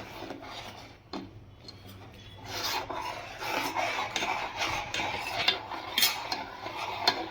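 A spoon steadily stirs and scrapes through a milk powder and custard powder mixture in a pan for carrot gulab jamun, a close, continuous rasping rub with no talk.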